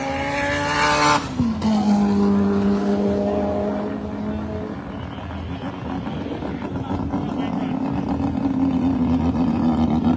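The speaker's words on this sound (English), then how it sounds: "Here you have Mr. Danny Prasad in his Lotus." A Lotus race car pulls off during a car race, its loud engine note shifting in pitch early on, then settling into a steady, droning roar that continues throughout amid track ambience.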